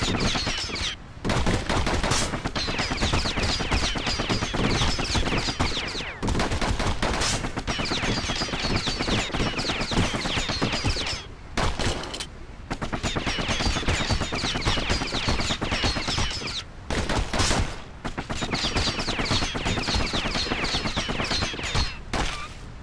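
Dual slinger pistols from the game Bastion fire in long rapid volleys, dense crackling shots that run almost continuously with a few brief pauses, loud and close with no talk.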